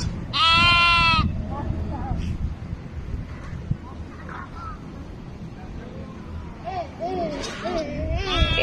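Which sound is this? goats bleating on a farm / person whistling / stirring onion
goats bleating on a farm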